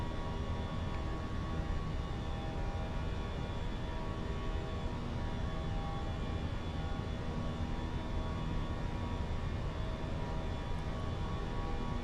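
Simulated Airbus A320 engines hold climb thrust in a flight simulator game, a steady, even jet roar with no break or voices.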